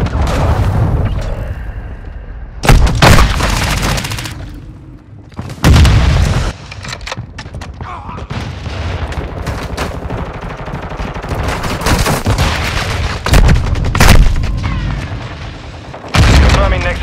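Cruise missile explosions and gunfire from a Call of Duty: Modern Warfare II match, loud booming blasts and bursts of shots recurring through the scene, with radio-style voices talking over the action.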